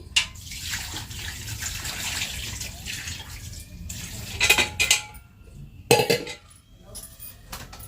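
Water is poured into a small washing machine loaded with baby clothes. Soft splashing runs under sharp plastic clanks and knocks, with a few louder bumps near the middle and end.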